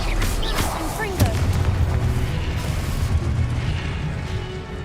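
A fire-blast spell cast in the wizarding game Hogwarts Legacy, a booming explosive burst over dense crackling battle noise, steady and loud throughout, with other spell effects around it.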